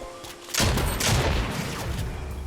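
Gunfire in the Fortnite video game, a sudden loud burst of shots that rolls into a dense, sustained rumble of fire for the rest of the moment.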